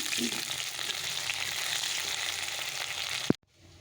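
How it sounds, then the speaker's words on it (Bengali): Potatoes frying in hot oil for a fish curry give a steady, close, loud sizzle that cuts off abruptly near the end. "মাছের আলুটা ভেজে নিচ্ছি"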